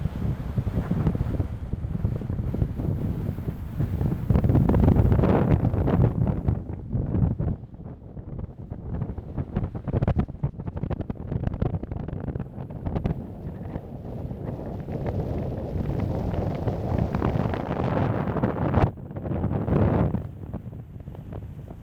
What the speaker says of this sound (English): And what a wind.